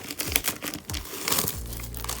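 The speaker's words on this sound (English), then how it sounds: "And I just cut the prime tape" Packing tape being cut and pulled on a large Amazon shipping box, with crinkling, scraping and tearing sounds in a few short bursts, close up and fairly quiet.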